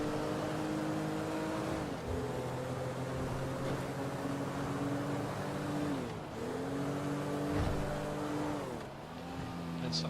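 BMW M3 engine driving in GTA V, a steady droning hum that dips and rises through several gear shifts, close and continuous with no talk.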